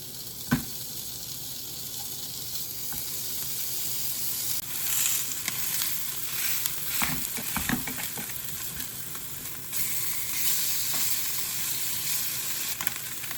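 Salted tongue slices frying in a pan, a steady close sizzle with occasional stirring clatters and brief crackles, no talking.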